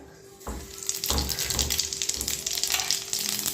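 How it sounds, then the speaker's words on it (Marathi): Cumin seeds drop into hot oil and burst into a loud, crackling sizzle that keeps popping steadily up close. "आपण आता याच्यामध्ये थोडंसं जिरं घालूया"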